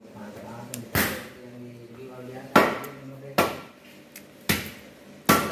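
Cow foot bones are hammered to get the marrow out for cooking: about six hard, clacking blows land close by at uneven intervals, with a low background hum between strikes.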